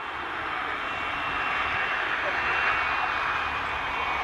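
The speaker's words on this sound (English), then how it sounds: "This Royal Air Force plane had its nose gear collapse while landing during an air show." A Royal Air Force jet plane landing at an air show, a steady, fairly loud engine roar with a broad hissing rush that swells slightly as it continues.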